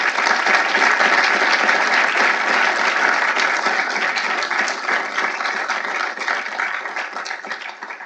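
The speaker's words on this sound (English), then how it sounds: "I want to take a moment to applaud and congratulate Kay Cole James." Sustained applause from a large audience at a formal evening event honoring Kay Cole James, dense and even clapping that holds loud and steady, then eases slightly toward the end, with no voices over it.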